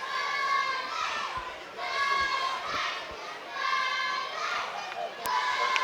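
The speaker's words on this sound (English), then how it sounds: "Still a decent enough crowd, good atmosphere, lots of school children around as well" A football ground crowd at an island games match, with many school children giving high-pitched chanting and shouting in repeated swelling waves, steady and moderately distant.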